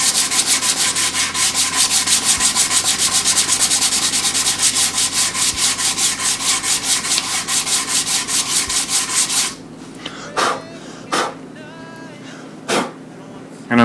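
A Telecaster electric guitar body is sanded with coarse 120 grit sandpaper in fast, steady back-and-forth rasping strokes, loud and close, then the sanding stops and a few brief scrapes follow.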